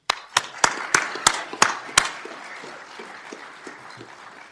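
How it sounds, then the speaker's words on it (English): Distinct handclaps at a police academy graduation ceremony, about seven sharp claps in the first two seconds, then trailing off into quiet room noise with faint scattered sounds. "I'd like to also have a round of applause for our new graduates"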